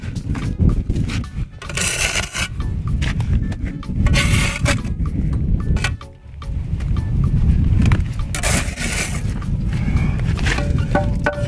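A laid stone being rubbed and scraped down into a side joint during DIY stone laying, giving loud gritty grinding and scraping strokes up close that pause briefly midway, with no talk.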